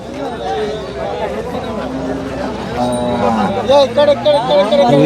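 Cattle low at a cow market in Sardarnagar, several drawn-out moos rising and falling over a busy background of crowd chatter and nearby talk, fairly loud and close.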